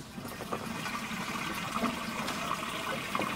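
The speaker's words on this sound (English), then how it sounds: "you can hear the water sloshing about now in the filter system" Water sloshes and churns continuously inside a pond drum filter system, a steady close wash of splashing with no talk.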